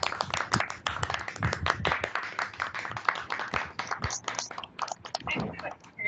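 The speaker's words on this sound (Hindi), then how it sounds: "एक बार जोरदार तालियों के साथ" Audience applause in a Hindi Diwas school assembly, a steady spread of dense clapping from many hands lasting several seconds at moderate level, with a voice carrying faintly underneath.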